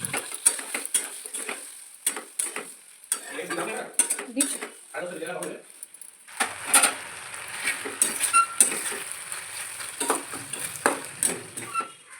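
In a home kitchen, a breakfast snack is being made while rice cooks on another burner. Utensils clink and scrape against pots and dishes in irregular bursts of stirring and clatter, with a faint sizzle between them.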